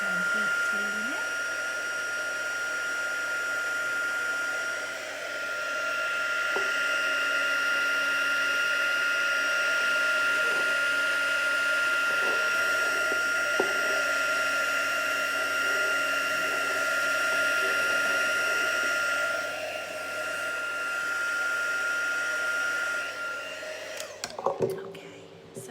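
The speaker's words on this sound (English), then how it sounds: "so I'm heat tooling it." A heat tool blows hot air to dry paint on an art journal page, a sustained loud whirring hum with a steady whine that runs almost unbroken, dips briefly once, then cuts off with a few clicks near the end.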